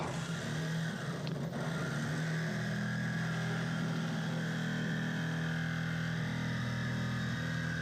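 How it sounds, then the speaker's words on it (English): Jigsaw cutting vent holes into a BMW M2 hood for race louvers, a continuous loud buzzing drone with a steady low hum that barely changes as the blade works through the panel. "I didn't notice the jigsaw slow down a whole lot."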